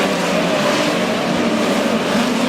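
Midget race cars roar past in a dense, continuous engine drone on the dirt oval at Lake Ozark Speedway, loud and steady with no pause.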